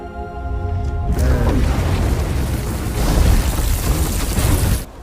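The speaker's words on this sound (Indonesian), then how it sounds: "bom itu pun meledak di dalam tubuh Yoten" A loud, sustained explosive roar bursts in after a second and rumbles on for several seconds before cutting off abruptly.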